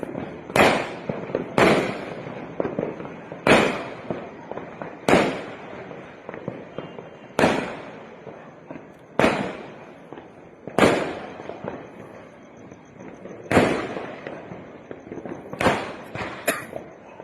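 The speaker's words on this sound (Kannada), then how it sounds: "ನೋಡಿ ಹೇಗೆ ಪಟಾಕಿ ಹೊಡಿತಾವ್ರೆ." Firecrackers going off around New Year's midnight 2026: about a dozen sharp, loud bangs burst at irregular intervals, each with a short crackling tail, over a low background rumble of distant celebration.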